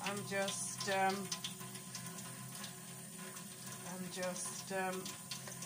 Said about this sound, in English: I'm letting the water flow